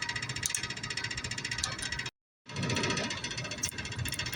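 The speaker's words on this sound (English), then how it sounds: "use the impact gun and just put a hold back wrench on the back." A pneumatic impact gun hammers loudly and continuously on a 1/2 inch nut on a Bluebird slice overseeder's tensioner cable, with a brief pause mid-burst before the rapid rattling resumes.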